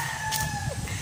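A rooster crows in one brief sustained call over a low background rumble.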